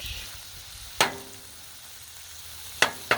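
Nachos cooking on a flat-top griddle, a soft continuous sizzle broken by three sharp metallic scrapes or taps of a spatula, one early and two close together at the end.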